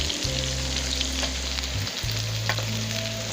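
Garlic and ginger fry in a pan while bhindi gosht is being made, a constant close sizzle over a low steady hum, with no one speaking.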